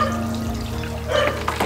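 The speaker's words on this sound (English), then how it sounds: "And then just water it in." Water poured onto a plant set in a small burlap-lined wicker basket, a brief close trickle and splash that swells in the final half second over a steady background hum.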